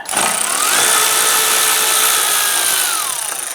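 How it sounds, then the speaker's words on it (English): A power ratchet or drill spins a 13mm socket to loosen an active grille unit bolt on a 2011-2018 Ram 1500, one steady whirring burst up close that rises and falls in pitch. "we're going to loosen up our bolts for our active grille unit using a 13mm socket"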